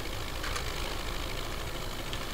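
An MTZ-82 tractor engine in Farming Simulator 19 drones steadily while pulling logs in a forest, a faint, even mid-low engine hum with no change in pitch across the moment.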